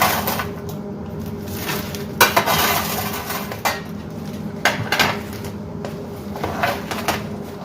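A spoon scraping and clinking against a jar while scooping homemade breadcrumbs, with steady close clatter and several sharper knocks scattered throughout, alone without talk.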